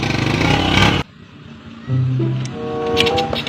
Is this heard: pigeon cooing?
no